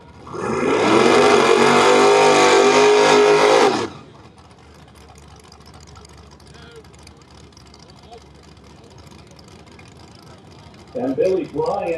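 Two Ford Mustang drag cars, an 89 with a 302 and an 82, roar together in a loud, close burst for about three seconds, then the sound drops away to a quiet background. A crowd or announcer's voice rises near the end.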